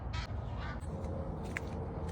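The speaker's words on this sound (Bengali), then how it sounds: "আমার যে হাঁস ক্যাক ক্যাক করে ডাকতেছে" Ducks on a farm pond in America give a few short nasal quacks over steady outdoor background noise, the calls fairly faint and scattered.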